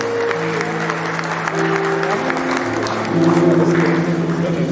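Audience applause at a memorial lecture, continuous clapping that swells slightly toward the end, heard under sustained musical tones playing in the hall.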